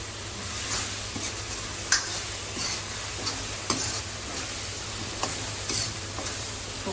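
Tomato and onion masala gravy being stirred in a pan for chole, a soft low sizzle under regular light taps and scrapes of a spoon against the metal, fairly quiet and close.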